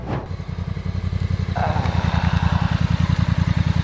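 A Honda NT1100 touring motorcycle rides along, its engine pulsing in a steady rapid throb that rises slightly in pitch, loud and close.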